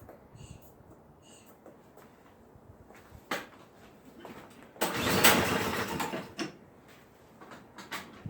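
A Toro Powerclear 721 RC snow thrower's small engine being started after a key turn and primer pushes: faint clicks, then a loud mid-pitched cranking and firing burst, briefly running before fading.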